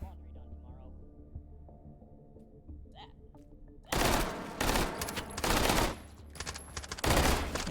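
Rapid bursts of gunfire in the VR shooter H3VR during tournament practice, loud and close, arriving as several clustered volleys after a quiet opening stretch with faint background sound.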